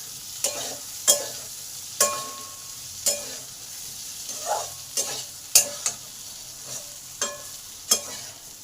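Potatoes fry in a pan with a continuous sizzle while a utensil scrapes and stirs them in regular, close, fairly loud strokes about once a second; no voices.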